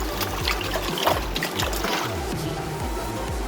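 About two glasses of water are poured into a vessel for watermelon sharbat, a close, steady trickling and splashing stream that runs without pause under a faint background.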